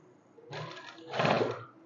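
A sewing machine stitching a dhoti salwar runs in two short bursts of rapid, whirring needle clatter, close and clear with a brief pause between them.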